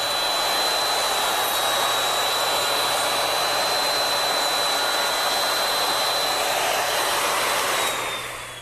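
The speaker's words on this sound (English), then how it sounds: "be sure when you're making these cuts that the router is held flat to the template" A handheld router with a bit running against an aluminum dovetail template while cutting dovetail joints in wood, a steady high-pitched whine with a constant rushing roar held for about eight seconds, then quickly spinning down at the end.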